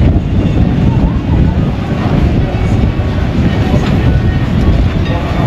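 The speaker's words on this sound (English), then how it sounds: "It's really windy along the strip." Strong wind buffets the microphone along a beach strip in Turkey, a steady loud low roar with no breaks throughout.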